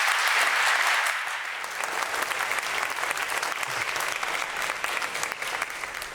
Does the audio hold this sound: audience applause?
yes